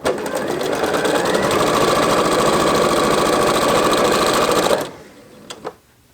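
Sewing machine chain piecing quilt pieces with quarter-inch seams, a steady, fast, close mechanical whir running continuously for nearly five seconds before stopping abruptly, followed by a couple of faint clicks.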